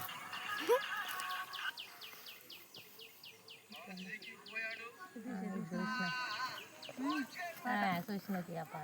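Several bleats from sheep and goats, some high and wavering, scattered among people talking nearby at low volume.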